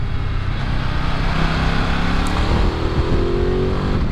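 A Ducati Multistrada V4 motorcycle engine in sport mode revs loudly and steadily, rising in pitch with a brief shift partway through, heard close with no voices.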